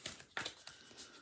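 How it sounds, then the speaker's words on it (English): A deck of tarot cards is shuffled quietly, with a few faint riffling and papery rustling bursts in close succession and no talk over them. "I'm shuffling the cards up again."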